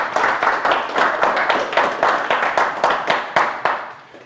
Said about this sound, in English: Let's give me all a round of applause, yes?